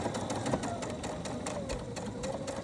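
Sewing machine stitching slowly around a curved seam on women's pajama pants, a steady close whirring hum running continuously with slight speed variations.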